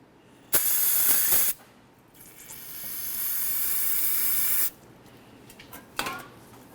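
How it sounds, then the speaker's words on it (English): Parts cleaner sprays in sharp hissing bursts into the slider ports of a front brake caliper bracket from a 2005-2010 Chevrolet Cobalt, one short blast, a longer softer spray, then another quick burst. "We're going to carefully spray some parts cleaner in."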